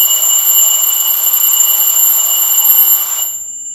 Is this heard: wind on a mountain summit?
no